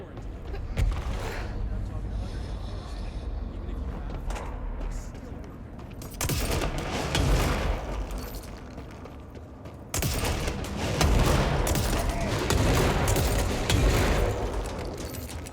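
Bursts of gunfire in the video game Control, crackling volleys in two heavier stretches over a continuous game soundscape, moderately loud, with occasional talk.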